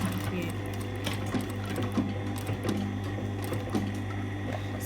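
A sewing machine stitches a double jetted pocket back and forth, running steadily and close throughout with brief pauses and shifts in speed, while people talk quietly over it.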